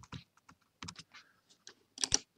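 Arrow keys on a computer keyboard are tapped in short, irregular clicks, some single and some in quick pairs, close and quiet with pauses between presses.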